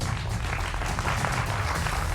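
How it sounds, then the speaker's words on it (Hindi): Studio audience applause greets guests on a Hindi television debate show, a short burst of dense, even clapping that stays loud throughout. "तो जोरदार तालियों से तमाम मेहमानों का अभिनंदन है।"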